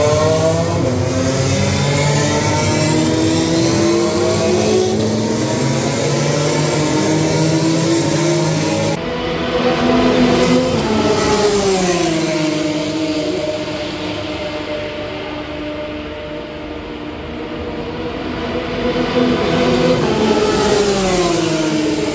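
Formula 3 race cars in free practice at the Monza circuit, several engines screaming past close by with rising and falling pitch as they accelerate and pass, loud and continuous with no talk.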